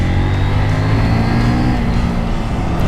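A CF Moto 800 NK motorcycle engine runs loud and close, holding a steady, dense roar with a low rumbling drone throughout, no voices over it.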